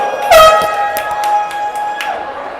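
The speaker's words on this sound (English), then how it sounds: "Got an annoying air horn over here" A loud air horn blasts once in a long sustained tone at a hockey game, with crowd noise and a few sharp knocks in the background.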